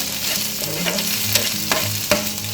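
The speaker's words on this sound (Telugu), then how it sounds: "ఒక 1/2 టేబుల్ స్పూన్ అల్లం వెల్లుల్లి పేస్ట్ వేసుకోవాలి. ఇది కొంచెం పచ్చివాసన పోయేలాగా కొంచెం 1 సెకండ్ ఉంచుకుంటే ఆయిల్లో" Ginger garlic paste fries in oil for a Telugu bottle gourd curry. A loud, continuous sizzle runs throughout, with a few crisp spatula scrapes and clicks on top.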